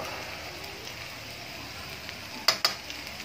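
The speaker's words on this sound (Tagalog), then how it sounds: "I-grill natin siya siguro mga 1 minute" Butter and mixed vegetables sizzle steadily on a grill in a home kitchen, a constant close frying hiss with a couple of sharp pops near the end.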